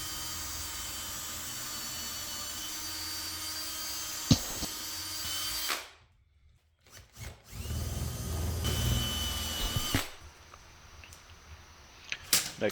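A power drill whirs steadily through wood drilling screw holes, stops briefly, then countersinks in shorter bursts with a few light clicks and taps.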